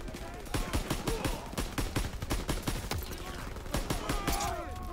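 Mounted turret machine gun firing in Call of Duty WW2, loud rapid bursts of shots with short pauses between volleys, close and continuous over ambient battle noise.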